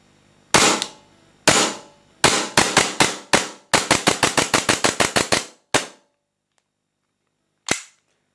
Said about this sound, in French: J'ai mis un peu de gaz, on va tirer quelques coups à vide,